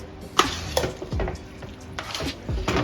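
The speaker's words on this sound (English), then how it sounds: "And you got to make sure you mix it all together." A spoon stirs spaghetti sauce with a little added sugar in a pot: irregular scraping strokes and clinks against the pan, close and clear, with no talking.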